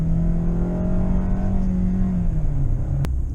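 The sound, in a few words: 2020 Hyundai Santa Fe engine revving around 3,000 RPM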